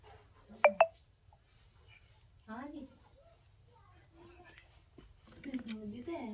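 Two quick, bright notification beeps from a phone sound close by, followed by people talking.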